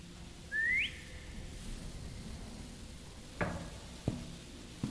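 A single short rising whistle in the video game Lazaret, set aboard a haunted ship, heard early and fairly clear, followed later by a couple of sharp knock-like thuds against a low hum.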